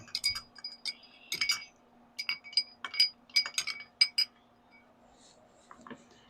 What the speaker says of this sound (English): And stir that up just a little bit.